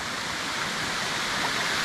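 Stream water flows steadily near fields, a dense, continuous rushing wash that stays loud and even throughout.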